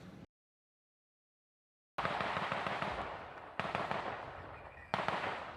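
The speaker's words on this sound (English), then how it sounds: "Dozens of gunshots rang out from these woods" Rapid volleys of gunfire in woods crackle loudly in dense bursts after a brief silence, with each new volley striking sharply and then trailing off.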